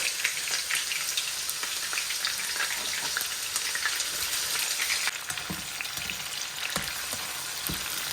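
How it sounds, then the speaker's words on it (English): Garlic, onions and red and orange peppers sizzle steadily in vegetable oil for a beef stir fry, a dense, continuous hiss with small crackles and pops throughout, close up and alone without talk. "we're going to just sort of kind of like saute and fry our garlic, onions, and red and orange peppers."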